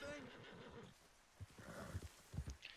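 A horse in the video game Red Dead Redemption 2 gives a bright whinny at the start, followed by a few heavy clip-clop hoofbeats, fairly close and clear.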